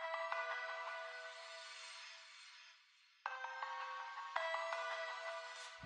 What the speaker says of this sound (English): I just layered it with this sine pluck.